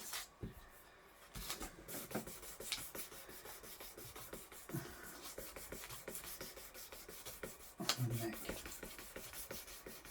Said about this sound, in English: I'll carry on doing this with the two types of sandpaper